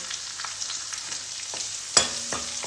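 Green chilies dropped into a hot pan of oil with cumin, crushed garlic and ginger, giving a steady close sizzle and a sharp crackling burst as they hit, with a few light stirring clinks afterward.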